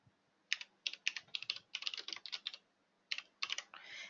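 Fingers type on a TVS Gold computer keyboard, producing crisp, clicky keystrokes in quick irregular bursts with short pauses, close and clear against a quiet room.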